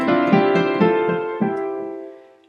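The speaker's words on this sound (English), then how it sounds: "there's actually a kind of a synthesizer noise over the top of that" Piano chords from Queen's Nevermore layered with a sustained synthesizer tone, rich and loud with a few rhythmic attacks, then fading out.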